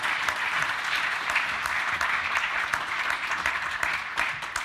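A conference audience applauds during a panel on monetary reform, with a dense, continuous clapping texture and a few sharper individual claps standing out, steady and fairly loud throughout.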